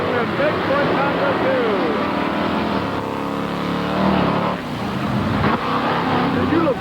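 The 1989 Bigfoot monster truck at full throttle with hydraulic rear steer, a loud, sustained engine roar that surges and rises, with a crowd and announcer audible under it.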